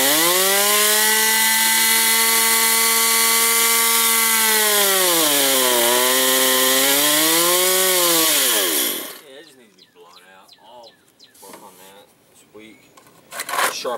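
A Stihl MS192TC chainsaw idles loudly and steadily, its pitch dipping and rising as it runs for several seconds, then shuts off, leaving someone talking close by.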